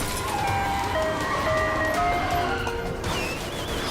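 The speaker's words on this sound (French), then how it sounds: "Un camion de glace!" An ice cream truck in a Hot Wheels City cartoon plays its tinkling jingle melody over a steady rush of vehicle noise, with a higher whistling tone swooping in near the end.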